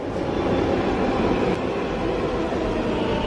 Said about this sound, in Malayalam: നമ്മുടെ മെട്രോ ഇങ്ങെത്തിയിട്ടുണ്ട്